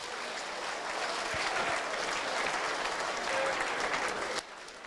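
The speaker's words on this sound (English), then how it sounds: "Ladies and gentlemen, a big round of applause for both men, please, after 3 hard-fought rounds." Sustained audience applause after a three-round kickboxing bout in Birmingham, a dense steady wash of clapping that holds for several seconds before cutting off abruptly near the end.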